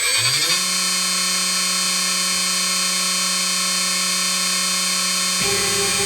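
A CNC machine spindle turning at 10,000 RPM and feeding at 600 mm/min gives off a steady, loud, high-pitched whine with many tones. The pitch drops briefly near the start and the sound shifts abruptly near the end.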